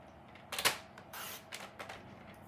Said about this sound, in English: I'm going to take one of these strips of paper that we had, the 1x4 strips. I'm going to cut it